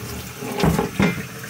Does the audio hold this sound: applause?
no